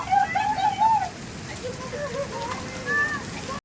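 Steady rain falls outdoors in Kozhikode, a soft continuous patter at moderate level, with faint bird calls and brief quiet voices mixed in.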